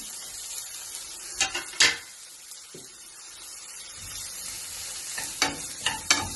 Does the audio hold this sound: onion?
yes